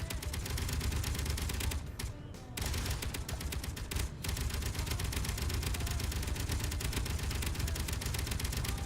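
Rapid rocket launches fired over and over in the space sandbox game Space Engineers: a dense, loud, unbroken barrage of bursts with two brief dips, no talk.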